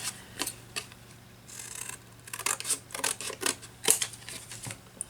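Scissors snip through a postcard for a vintage-style collage, a run of close, crisp cuts in irregular bursts against a faint steady hum, with no talking.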